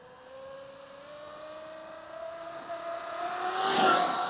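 Traxxas Maxx V2 RC car motor at full throttle on a speed run, a rising high-pitched electric whine climbing steadily in pitch and growing louder as it nears and peaks with a rushing pass near the end.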